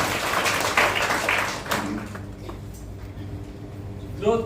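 An audience claps in a burst of applause that fades away within a couple of seconds, leaving a quiet room with faint murmuring.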